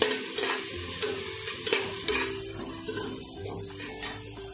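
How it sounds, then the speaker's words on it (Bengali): Ginger and green chili paste hits fried coconut in a pan for Bengali bhoger khichuri, crackling and sizzling loudly up close as a spoon stirs with occasional scraping taps. "এবার এতে আমি 2 টেবিল স্পুন মতো আদা আর কাঁচা লঙ্কার পেস্ট দিয়ে দেবো"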